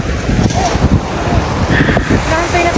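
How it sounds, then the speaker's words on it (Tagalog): Strong wind at a beach resort in Dingalan, Aurora buffets the microphone in loud, gusty bursts, with faint surf-like noise underneath. "Ang sarap nung hangin."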